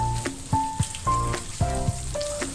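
Two bay leaves dropped into hot oil with ginger and garlic for a spicy Bengali chicken curry crackle and sizzle steadily, partly under a tonal background melody.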